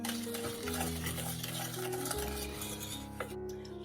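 Cornstarch is stirred into a pineapple pie filling, with a continuous scraping and swishing of a utensil against the pot and a few light clinks, steady and close, with no talk.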